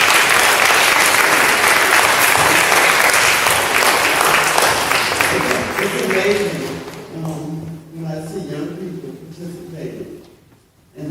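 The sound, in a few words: audience applause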